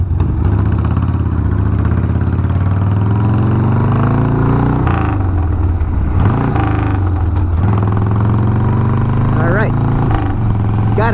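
A 1994 Harley-Davidson Sportster 1200 is ridden with a loud, continuous engine rumble that rises and falls through revs and gear shifts, heavy wind buffeting throughout.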